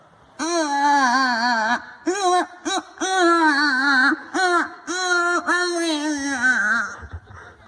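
A human voice imitates a baby crying on a train, with a run of loud, close, wavering wails broken by short pauses, then a quiet tail at the end.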